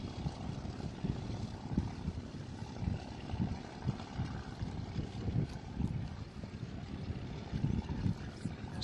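A wooden racing boat's engine idles on a lake while cruising, giving a steady low rumble that carries on without a break from a moderate distance, with no voices.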